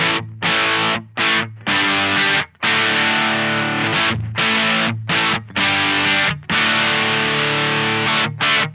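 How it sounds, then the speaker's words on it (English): Electric guitar chords played loud through a Supro Drive overdrive pedal with gritty, near-distortion tone, strummed in sustained bursts with brief breaks between them, no voices. "just verging on the edge of a bit of a distortion-like sound there"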